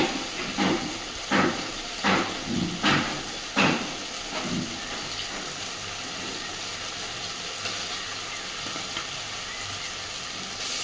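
Chicken pieces dropped into hot oil and fried spice masala for chicken kosha, several loud sizzling bursts at first that settle into a continuous steady frying hiss.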